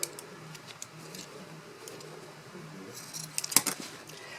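Scissors trimming quilt fabric during mini quilt assembly, a few faint quiet snips and clicks spread across a hushed room, with a sharper cut near the end.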